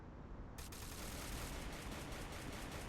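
Rapid, dense gunfire from the mobile battle-royale game Free Fire, a steady, loud barrage of overlapping shots that runs without a break and is heard alone with no talk.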